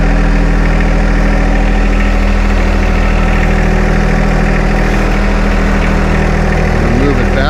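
A John Deere 2025R compact tractor engine runs steadily as the tractor reverses in low range, a loud, close, continuous mechanical drone that never lets up.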